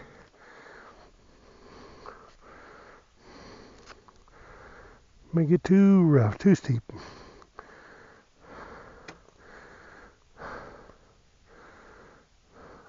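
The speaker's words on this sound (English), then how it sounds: "I'm breathing heavy too" Heavy breathing from a person on a steep, rough abandoned trail in Arizona, with rhythmic panting breaths throughout and one loud, rasping wheezy gasp in the middle, under brief speech.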